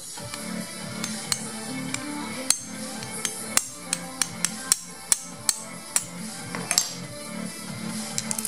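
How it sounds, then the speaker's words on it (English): Sharp metallic hammer taps ring out one after another at an uneven pace, close by, over a low background hum. "Just get a hammer."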